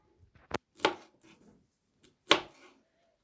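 A knife cuts through pineapple on a plate, giving a few crisp separate slices, each a short close crunch against quiet.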